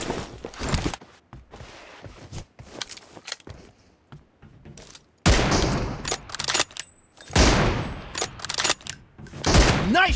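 Gunfire in a PUBG Mobile 1v1 room match with an M24 sniper rifle comes in loud, sharp bursts separated by quieter gaps with faint movement and clicks, with no talking.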